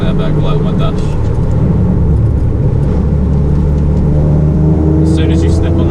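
Ford Fiesta ST150 with a custom RS-style dual-exit exhaust, a loud continuous low-rev engine rumble and drone heard from inside the car as it pulls in fourth gear, with a voice speaking over it.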